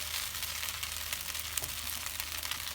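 Singapore noodles frying in a pan, a steady close hiss of sizzling oil with faint scraping, even and continuous throughout with no talk.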